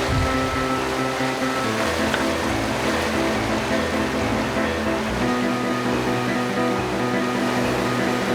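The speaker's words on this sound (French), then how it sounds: "On en commence à entendre le remous." Water swirls and churns through a strainer as the level rises, a dense continuous rushing wash, loud and close, with no voices.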